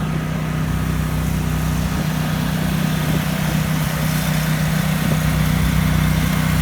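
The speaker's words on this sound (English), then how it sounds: "I'm going to let the noise run in the background while you see the mismatched gathering of our" Several mismatched portable generators, one a 12,000-watt unit, drone together at a sugar beet harvest campsite in Red River State Park, Grand Forks, a steady, loud, continuous hum with a low mechanical rumble and no talk.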